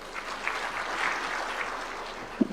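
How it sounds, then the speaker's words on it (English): An audience at an investment conference in Murang'a, Kenya claps together in a brief, steady patter of many hands, fairly distant and soft, ending with one sharper knock near the end. "the audience also welcome that with a clap"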